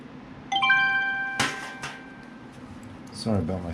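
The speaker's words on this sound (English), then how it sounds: "Sorry about my phone going off." A mobile phone ringtone goes off nearby during a liner-cutting tutorial: a short melodic tone sequence, fairly loud, followed by a sharp click or knock and brief speech at the end.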